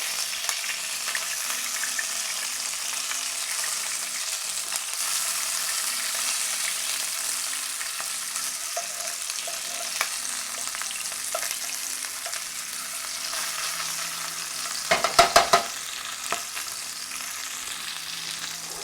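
Food fries in a hot pan after being turned over, an even, continuous sizzle heard close up, with a brief cluster of louder clatter and pops near the end.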